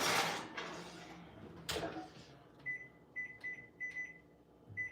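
A dessert goes into a kitchen oven: a soft door clunk and rustle, then a series of short electronic beeps as the timer is set, all faint and close.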